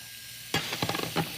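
Food for a stir fry hits a hot skillet and erupts into a sudden, crackling sizzle with sharp pops and spatters, close and loud after a brief quiet hiss.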